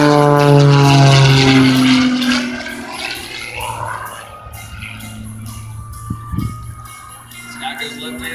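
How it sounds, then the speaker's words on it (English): MXS high-performance aerobatic airplane with a 320–340 horsepower engine at an airshow, a loud propeller roar passing overhead and fading to a distant drone, with a voice talking over it. "Think of that 320 up 340 horsepower engine. Trust me, he's up there, I can hear him."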